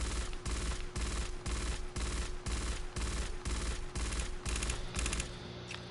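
A gunner's weapon in the Aliens: Fireteam Elite video game fires at its normal rate, with about a dozen loud, evenly spaced bursts of rapid gunfire in a steady rhythm that then stop.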